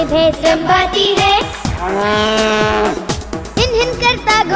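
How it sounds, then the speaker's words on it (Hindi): A cow lets out a long, drawn-out moo over a bouncy music track in a Hindi children's nursery rhyme. "गाय भैंस रंभाती है"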